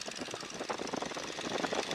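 A cold radial engine on a Stearman N2S-3 biplane runs steadily close by with a rough, pulsing drone that builds slightly in strength as power is slowly brought in.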